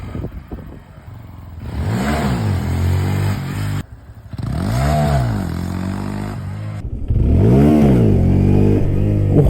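A Honda Grom motorcycle engine revs hard in three rising surges with brief cuts between them, loud and close, as the rider pops a wheelie; no talk is heard.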